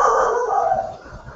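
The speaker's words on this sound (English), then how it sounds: "That's your dog?" A dog howls in a long, sustained wail that slowly tapers off, fairly close and alone with no talking.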